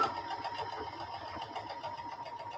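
A serger sewing machine running, a fast steady mechanical whir and hum at moderate distance, continuous and uninterrupted with no talking.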